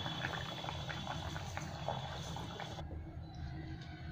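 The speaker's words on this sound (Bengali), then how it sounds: "মাছগুলো একটু ফুটে গেলেই গ্যাসটা বন্ধ করে দেবো।" A fish curry with potato, eggplant and spinach bubbles in a pot at a steady low simmer, close but quiet, with a faint hiss and no talking.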